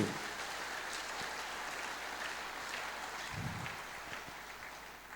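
A church congregation in Kinshasa claps in praise of Jesus, a sustained, fairly soft wash of applause heard from a distance that tapers off slightly at the end, with no talking.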